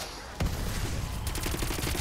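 Rapid gunfire in the video game Call of Duty: Black Ops Cold War, a loud burst of automatic shots opening sharply and continuing as a fast, close rattle of repeated reports.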